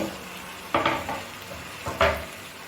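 Brinjal pieces tipped into a pan for a brinjal and peas curry land in two quick bursts of clatter and soft sizzle, close and fairly loud, with a short quiet gap between them.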